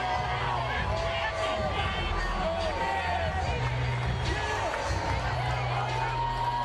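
A boxing crowd at a heavyweight bout between Evander Holyfield and James Toney gives a subdued reaction as a fighter enters, a steady murmur of babble and scattered cheers held at a distance, with a commentator talking over it.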